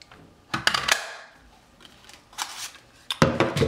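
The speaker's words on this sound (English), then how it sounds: "go ahead and punch out a circle with our scrap piece of Blackberry Bliss" A craft punch cutting a 2.5 inch circle from Blackberry Bliss cardstock, with sharp clicks and paper crunches in short clusters, close and dry, separated by brief pauses.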